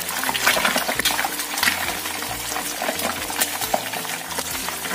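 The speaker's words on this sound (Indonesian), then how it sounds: "Panaskan wajan, kita goreng dulu tongkolnya sampai kering ya" Tuna pieces fry in hot oil in a wok over medium-low heat, giving a steady sizzle and crackle. Occasional stirring scrapes and clinks sound close by throughout, with no talk.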